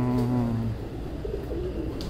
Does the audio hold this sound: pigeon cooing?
yes